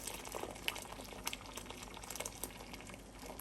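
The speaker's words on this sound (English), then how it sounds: "I am going to pour some hot water, not over the jar, but in between." Hot water pours and burbles steadily into a hot canner around a jar nearby, a continuous bubbly gush with small splashes.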